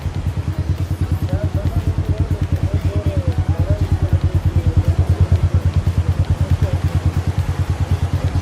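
A motorcycle engine idles steadily and close by before a ride from Balakot toward Kawai and Shogran, a loud, even low thumping pulse with a rhythmic clatter throughout.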